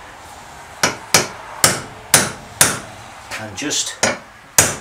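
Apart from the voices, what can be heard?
hammering a chisel or punch into a motorcycle fork seal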